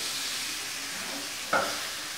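Thick tuna steaks sizzle steadily in a hot pan, a constant frying hiss with a brief louder flare as the slices are turned over; no one speaks.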